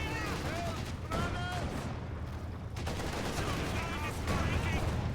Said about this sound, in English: Rifle grenade going in.